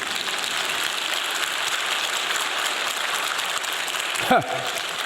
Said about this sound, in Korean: 이럴 때는 박수도 못 쳐주는가?